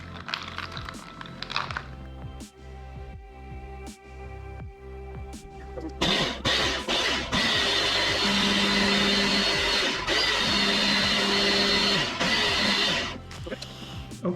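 A blender whirs loudly and steadily for several seconds while making a turmeric ginger smoothie, after some quieter kitchen handling noises at the start.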